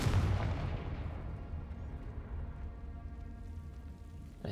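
A Confringo fire spell cast in Hogwarts Legacy bursts with a deep booming blast at the start, its rumble rolling and fading steadily over several seconds, with a faint sharp crack near the end.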